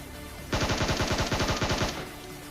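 Rapid automatic gunfire rattles in a shooter video game, a single loud burst of evenly spaced shots lasting under two seconds, close and without talk.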